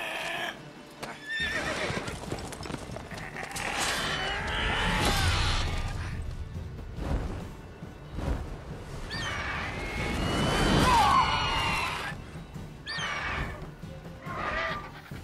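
A horse in The Witcher 3 neighs and whinnies loudly in several agitated bursts, mixed with rushing, chaotic game noise.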